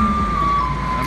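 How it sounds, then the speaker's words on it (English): Ice cream truck music drifting along a street in Hsinchu, Taiwan, a steady sustained melody tone over continuous traffic and engine rumble, fairly loud throughout. "I think the ice cream truck's outside and the garbage truck."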